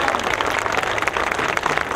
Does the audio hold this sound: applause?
yes